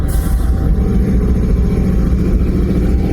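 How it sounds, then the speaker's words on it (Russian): A locomotive's air brake compressor starting up at a Chisinau railway depot, a loud, steady low rumbling drone heard close by and continuing without a break, with no talking. "Накачивается воздух. Слышите? Начал работать этот компрессор. Тормоза-то у него воздушные."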